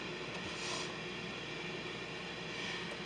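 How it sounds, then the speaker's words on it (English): The fan of an Instant Pot air fryer lid, set to 350, hums steadily with a soft, even whir, continuous and fairly quiet, with no other sounds standing out. "Hear the fan?"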